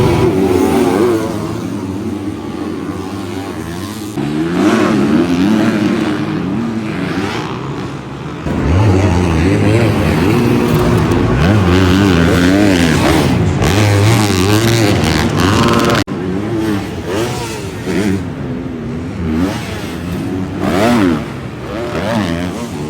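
250-class supercross motorcycles racing in timed qualifying on a South African stadium track, engines loudly revving and rising and falling in pitch as bikes pass close, with several overlapping machines and faint crowd and talk mixed underneath.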